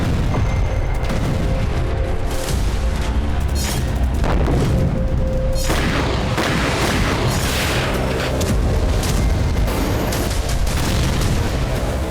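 Heavy booming blasts from Russian bombs of about 3000 kg striking Ukraine in wartime, a loud continuous rumbling barrage with repeated deep impacts and no speech.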